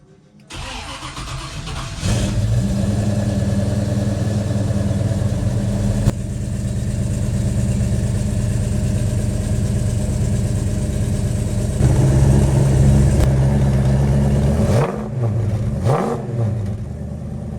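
A hot rod's engine cranks and catches, then settles into a loud, steady rumbling idle before several sharp revs blip near the end, close up and with no talking.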